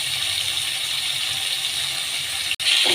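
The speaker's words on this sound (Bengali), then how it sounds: "মাছগুলো একটু কিন্তু দিয়েছি এখানে ভাজা হচ্ছে।" Bata fish seasoned with salt and turmeric sizzles steadily in hot oil, a constant dense hiss with a brief sharp click near the end and no talk.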